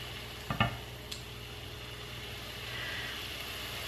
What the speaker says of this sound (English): that veg is frying off nicely now